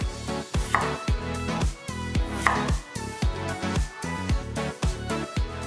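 A knife thinly slices Korean radish on a cutting board with a quick, steady run of crisp, close chops, about a dozen and a half sharp strokes with no talking.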